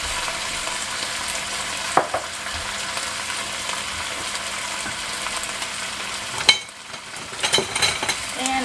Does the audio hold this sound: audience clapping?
no